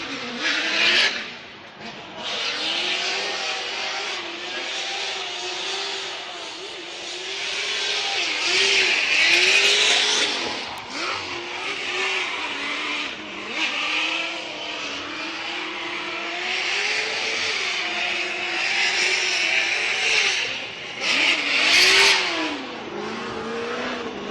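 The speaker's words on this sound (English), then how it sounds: "listen to his throttle" Formula Drift car on a competition run at the New Jersey round, its engine revving hard with constant throttle blips and rising, falling pitch sweeps, loud and continuous throughout with a possible tire-squeal edge.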